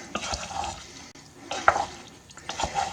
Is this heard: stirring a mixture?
yes